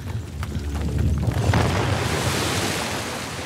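Water splashes and surges in the Uncharted: The Lost Legacy video game, a rushing wash that swells after the start and settles into a steady, moderate roar with no voices over it.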